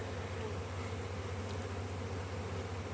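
Honey bees buzz around a spring hive's top entrance, a faint, steady drone with a low hum underneath and no talk.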